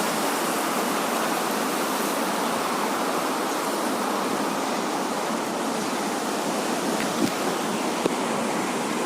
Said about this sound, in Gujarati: આમ જુઓ આટલા પાણી છે.